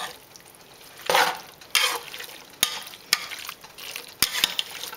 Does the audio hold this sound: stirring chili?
yes